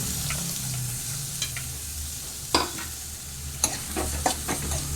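Finely chopped onions sizzle and fry in a pan while a spoon stirs them until translucent, with occasional sharp scraping clicks against the pan and no talking.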